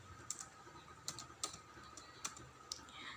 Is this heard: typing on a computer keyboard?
yes